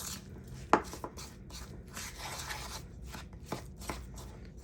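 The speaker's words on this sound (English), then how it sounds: "So you just want to mix that till it's pretty, you know, well mixed together" Meatloaf mixture of ground meat, eggs, milk and breadcrumbs is mixed in a bowl, with soft squelching, rubbing and a few sharp knocks at an uneven pace, close by and with no talk.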